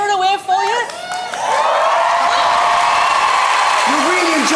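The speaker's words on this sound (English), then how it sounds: "You see them all up there clapping and cheering away for you" An audience at a Britain's Got Talent semi-final claps and cheers, a broad wash of applause rising after a moment and holding strong, with a presenter speaking over the start.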